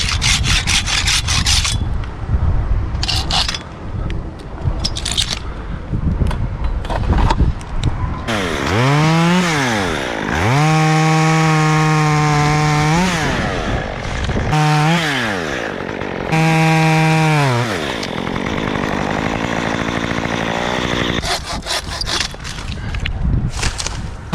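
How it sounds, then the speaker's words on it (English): A handsaw cuts through spruce during a tree removal, with quick rasping strokes up close. Bursts of a revving chainsaw follow, rising and falling in pitch. "have we used the handsaw at all on this job? You gotta use the handsaw."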